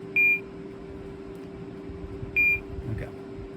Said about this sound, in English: the watch tone, or chime tone, is just a single high-pitched beep.